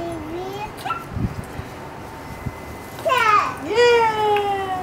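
Puppies yip and whimper in a home, with short high whines scattered through and a louder burst of yelping near the end, while children and adults chatter nearby.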